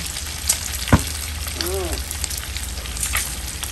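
Vegetables and chicken frying in a pan with a lot of oil give a dense, close, loud sizzle, with a sharp clack near the start and a brief squeak partway through.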